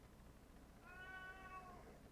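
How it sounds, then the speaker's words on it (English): A single drawn-out cat meow, faint and somewhat distant, rising and falling over about a second against a quiet indoor background, the cat calling for attention and food. "the cat, who's meowing for attention and food"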